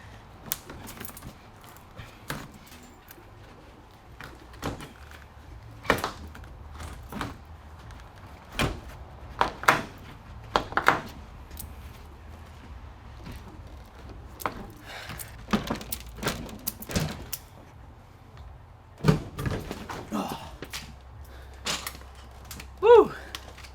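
A truck camper door is pried loose from its butyl tape in a string of irregular cracks, knocks and creaks that break out one by one over quiet stretches, close and fairly sharp.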